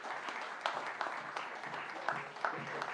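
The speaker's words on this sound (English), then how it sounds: "Let's give him a big round of applause." Audience applause at a public speaking masterclass, fairly faint and roomy, with scattered sharper claps standing out from the steady patter.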